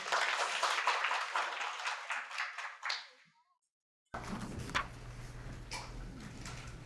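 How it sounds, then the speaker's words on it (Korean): Applause from a lecture audience before a social work fieldwork presentation, a loose patter of clapping that fades out, then a short silence and a quieter room tone with faint ticking. "우리 장 선생님 발표하실 건데 박수 한번 쳐봅시다"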